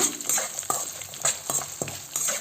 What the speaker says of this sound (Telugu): ఇవన్నీ కొద్దిగా దోరగా అయ్యేంతవరకు ఇది ఫ్రై చేసుకోవాలి.